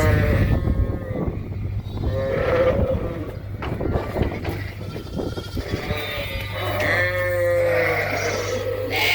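Suffolk and Dorset ewes and lambs bleat in a barn, with repeated close, overlapping calls of varying pitch over a constant low mechanical hum.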